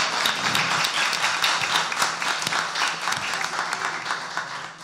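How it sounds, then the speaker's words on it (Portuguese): Audience applause at a Brazilian public hearing of a commission on people with disabilities, brisk hand clapping filling the room for a few seconds with faint voices underneath. "Uma salva de palmas para o Leandro"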